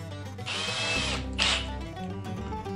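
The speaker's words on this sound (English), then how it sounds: "pop a couple pilot holes for the screw on the tree" A power drill bores pilot holes for screws in a wooden Mother's Day birdhouse meant for mounting on a tree: two short whining bursts close by, the first longer, the second a quick jab.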